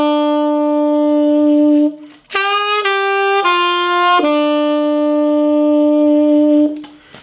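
Tenor saxophone plays a slow phrase from a song, alone and clear: a long low held note, then a few stepped higher notes, then settling back to a sustained low tone.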